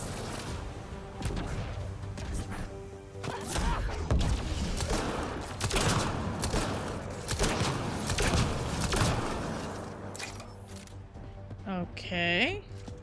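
Gunfire in Mass Effect Andromeda: repeated sharp shots cracking over a busy combat soundscape with music, spread across the scene, and a voice speaking amid the firing.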